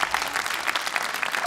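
Steady applause from an audience at a Limburg children's declamation contest final, dense clapping filling the whole moment at moderate loudness with no voices over it.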